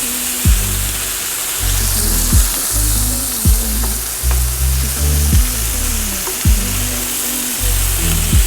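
Grass-fed rack of lamb frying on a camp stove gives a loud, steady sizzle that never lets up, with regular soft thumps and scrapes about once a second as the meat is moved or stirred.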